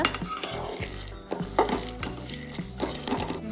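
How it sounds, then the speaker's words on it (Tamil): Cardamom pods, cashews and roasted gram dry-roasting in a pan for pottukadalai ladoo, with a spatula clinking and scraping against the metal in quick, uneven knocks that stay close and fairly loud throughout. "அடுப்பை பற்ற வச்சு சட்டியில் ஏலக்காவும் முந்திரியும் போட்டு லைட்டாக வறுத்துக்கோங்க"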